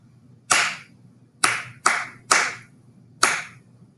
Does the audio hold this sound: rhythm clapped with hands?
yes